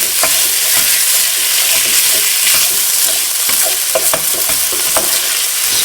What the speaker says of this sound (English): I'll keep working it to break up all the sausage meat.